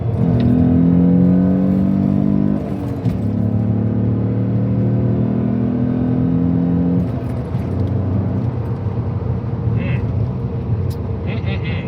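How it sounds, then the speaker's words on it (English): A 1998.5 Ford Contour SVT's Duratec engine drones and revs, loud and close. It holds steady tones that shift in pitch as the engine is rev-matched and pulls through a gear change, with a voice faintly mixed in. "See if I can get a good rev match and then pull."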